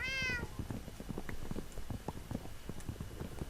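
Cats in a Minecraft world meow repeatedly; a clear high meow opens, followed by a fast run of soft clicky footstep-like taps and faint mews, fairly quiet and continuous with no talking.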